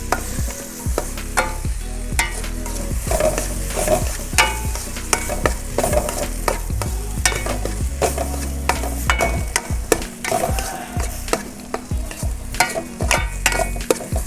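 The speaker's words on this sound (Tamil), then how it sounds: "இதை நீங்கள் ஹை ஃப்ளேமில் வச்சு கலக்கிக்கிட்டே இருந்தீங்கன்னா இது மாதிரி பொடி மாஸ் மாதிரி நல்லா உதிரியாக வரும்" Beaten egg mixture stirred continuously in a pan over a high flame until it crumbles into a dry filling for egg stuffed parotta. A steady sizzle runs throughout, broken by frequent sharp scrapes and taps of the spoon against the pan, with no talking.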